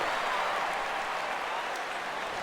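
A steady, full-bodied roar from a virtual stadium crowd in MLB The Show 15 rises for a 3-2 count as the Texas Rangers play the New York Yankees, a continuous wash of cheering with no break.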